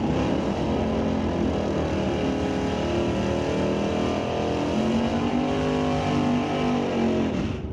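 A 1960s Ford Mustang with a 347 engine roars through an ET series drag race at Mission Raceway Park, a loud, sustained engine howl close by that holds steady, then drops away at the very end.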